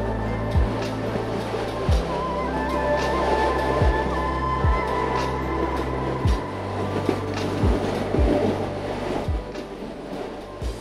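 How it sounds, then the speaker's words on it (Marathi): Ooty toy train running along mountain tracks, a steady low rumble with regular rhythmic clacks of wheels over rail joints every second or so, continuous and fairly close throughout. "ट्रेनचा रिदम आणि खिडकीतून दिसणारा हा सुंदर व्ह्यू, बाहेर निसर्गाची शांतता आणि आत टॉय ट्रेनचं नॉस्टॅल्जिक साऊंड"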